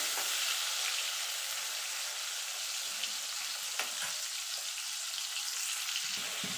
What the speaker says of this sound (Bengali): এবার চিংড়ি মাছটাকে ভেজে নেব।